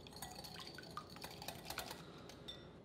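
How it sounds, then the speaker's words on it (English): A raw egg white is whisked quickly in a bowl. A soft, continuous wet swishing carries light metallic ticks of the whisk against the bowl, close and faint throughout, with no voice. "we're just going to give this a quick whisking, just to kind of break up any viscous portions of it"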